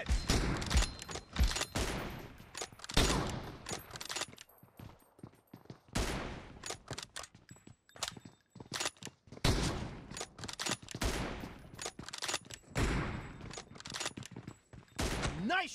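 M24 sniper rifle shots in PUBG Mobile during a team deathmatch, several sharp separate cracks spaced through the passage along with other gunfire and brief game voice callouts.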